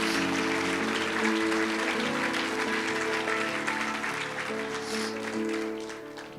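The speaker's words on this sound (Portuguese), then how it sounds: "dá uma salva de palmas para Jesus, para esses discípulos." A church congregation applauds, a broad wash of clapping that holds steady over a sustained musical tone and then eases off toward the end.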